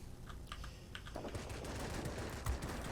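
Aircraft machine guns fire in the World of Warplanes flight game during a Spitfire XIV dogfight. Rapid bursts rattle over a steady engine drone, with a clicking keyboard close by.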